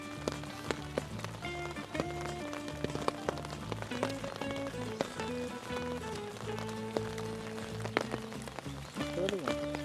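Steady rain patters on surfaces during a rainy outing in Ashoknagar, a continuous close hiss with scattered drips and knocks, under music and voices.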